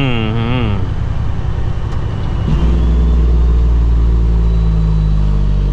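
Loud, steady low engine drone from a semi truck pulling a box trailer, with a rising gear whine early on and a heavier rumble settling in partway through, heard from inside the cab.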